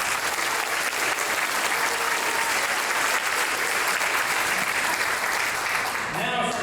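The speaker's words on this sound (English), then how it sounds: "let's give them a large round of applause" Sustained, dense applause from a large audience at a chamber of commerce annual awards dinner, loud and continuous throughout before thinning slightly at the very end.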